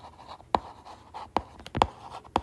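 A math solution is written out by hand, with several sharp pen or chalk taps and strokes landing at irregular intervals over quiet, close-up scratching and no speech.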